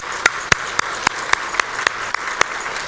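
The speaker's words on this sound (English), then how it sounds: "Just want to give everyone a round of applause one more time" Applause at a university mentoring scholarship ceremony, heard as a sparse, evenly paced series of about ten sharp, distinct hand claps over a soft background wash, close and fairly loud.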